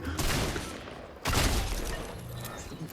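A rapid burst of gunfire in the video game Fortnite, a dense crackling volley that restarts sharply after a brief dip and continues loudly, with faint voices behind.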